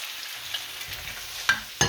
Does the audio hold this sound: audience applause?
no